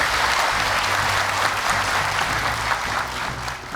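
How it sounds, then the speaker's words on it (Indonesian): Loud, dense applause from a television studio audience at a Quran recitation competition, sustained and continuous throughout, with a faint crowd murmur underneath. "Tepuk tangan dong, semangat untuk kelima orang tua kita."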